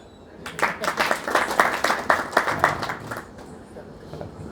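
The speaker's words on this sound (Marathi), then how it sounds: "ओके जरा टाळ्या." A small audience at a Marathi Bhagavad Gita talk claps in a quick burst of scattered, rhythmic handclaps lasting a few seconds, then trailing off into low murmuring.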